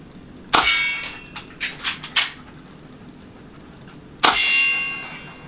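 Airsoft GI HFC HA118EBL M9 pistol, black and silver, firing at metal targets: a loud metallic clang, then three quick lighter pings close together, then another loud ringing clang after a pause.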